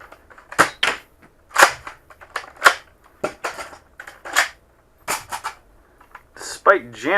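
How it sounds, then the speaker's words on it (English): A Nerf Double Dealer dart blaster fires again and again despite jamming, making sharp, snappy pops at irregular intervals with mechanical clicks between them, loud and close. "Despite jamming, it somehow managed to still fire."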